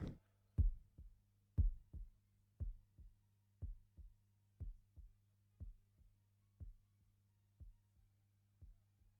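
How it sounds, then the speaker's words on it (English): Heartbeat sound effect from Pink Floyd's The Dark Side of the Moon: about a dozen soft, deep double thumps at a slow, even pace over a low steady hum, with no talking. "there's that heartbeat"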